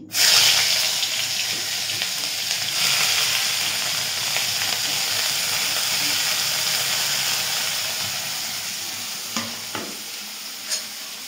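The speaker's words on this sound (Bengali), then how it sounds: "ভালো করে ভেজে নিচ্ছি বন্ধুরা পেঁয়াজ লঙ্কা দিয়ে" Loud, steady sizzling of chopped onions and green chilies frying in hot oil, with occasional stirring clinks toward the end and no talking.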